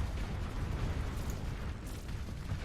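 Mines exploding during a space battle in the video game Starsector, a dense, continuous rumble of overlapping low booms and bursts with no clear gaps, fairly loud throughout.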